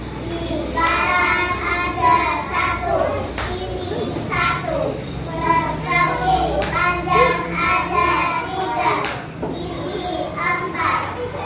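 Children clap for a group in a classroom lesson on flat shapes played through traditional games, with steady scattered clapping mixed with lively kids' voices and chatter throughout, fairly close and busy.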